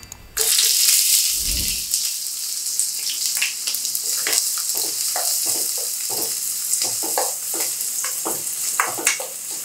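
Loud, steady sizzling of chopped onions frying in hot oil for vegetable kurma, with crackles and pops throughout after a brief dull thump at the start.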